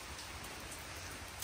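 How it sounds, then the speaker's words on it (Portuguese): Rain falls steadily in the countryside, a dense, even hiss of drops with no talk, quiet and continuous throughout. "Mas olha aqui como é que tá a chuva."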